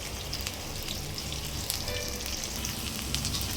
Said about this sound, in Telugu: ఉల్లిపాయలు వేసుకొని ఇది కొంచెం ఫ్రై అవనిద్దాం